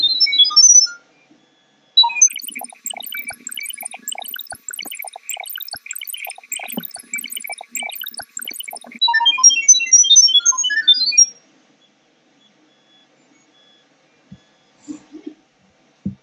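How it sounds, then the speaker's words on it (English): A 3D-printer monitoring camera in discovery mode beeps rapidly in quick, even bursts for several seconds, then a higher chirping sequence follows before the sound cuts off into near silence. "make sure this camera is beeping like this"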